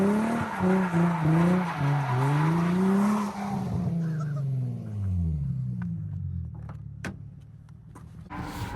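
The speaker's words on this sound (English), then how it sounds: "the Z completely smokes them out in second gear like this" A Z drift car in second gear revs hard with rising and falling engine howls mixed with tire squeal, then recedes and fades. A few sharp clicks and knocks punctuate the quieter tail.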